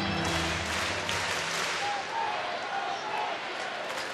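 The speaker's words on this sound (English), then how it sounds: "The crowd energized here in the 5th inning." A baseball stadium crowd cheers and roars during the fifth inning of an Angels at Rangers game in Texas, a broad, sustained wash of noise beneath a commentator's voice.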